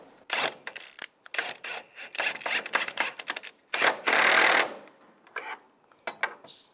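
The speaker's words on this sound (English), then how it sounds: "Now tighten these down." Engine mount bolts being tightened on a 1999-2005 Volkswagen Jetta, with a close series of quick metallic ratchet clicks in short bursts, a brief louder whirring burst in the middle, and scattered tool clinks.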